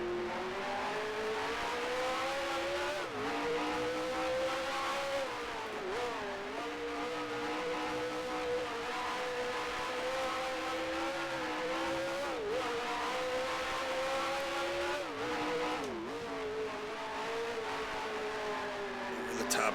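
Race car in Grand Prix Legends droning through laps, its engine note held high with brief dips at gear changes, continuous and loud, with some murmured speech faintly mixed in.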